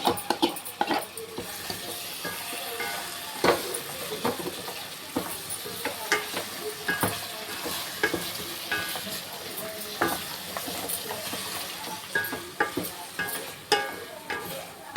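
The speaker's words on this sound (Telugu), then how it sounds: "బిర్యానీ మసాలా పొడి వేసి కొంచెం అట్లా వేగనిచ్చి చికెన్ వేస్తున్నా." Marinated chicken with ginger paste, chilli and coriander powder frying with biryani masala in a pan for chicken biryani: a steady close sizzle with frequent scraping stir strokes and light clinks throughout, no voices.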